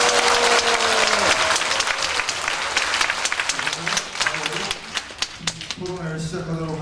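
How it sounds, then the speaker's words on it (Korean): An audience at a youth forum on political current affairs held in a national assembly memorial hall applauds, with brisk clapping from a seated crowd that thins into scattered claps before a speaker's voice resumes near the end. "박수 부탁드립니다."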